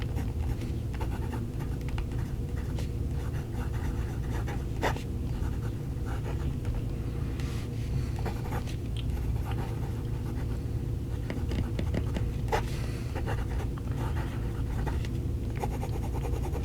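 A fountain pen with a large number 8 nib scratches across paper in a steady, close, continuous writing sound with a few sharper strokes, no talking.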